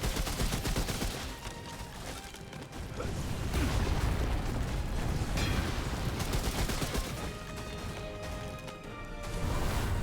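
Rapid gunfire at a monster's tail in Remnant: From the Ashes, dense and loud throughout, layered with clanking mechanical game effects and no talking.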